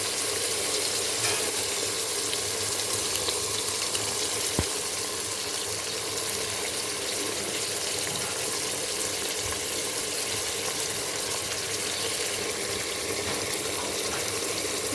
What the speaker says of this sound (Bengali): মিক্সিটা ধুয়ে একটু জলটা দিয়ে দিলাম।